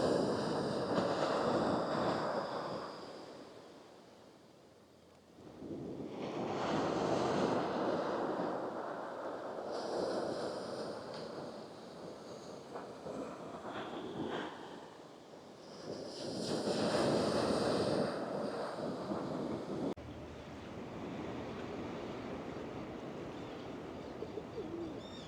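Ocean waves roll in at sunrise, captured with a DJI Mic 2: slow swelling surges of surf rise and fade every several seconds, with birds cooing softly and light wind buffeting in the background.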